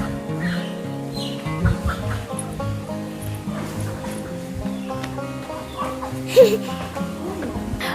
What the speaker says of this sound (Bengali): আর কতদিন পর এতগুলি মুরগি একসঙ্গে দেখতে পেলাম